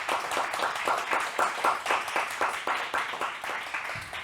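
A chamber of commerce award breakfast audience gives sponsors a round of steady, rhythmic clapping, moderately loud and close, continuing evenly without talk.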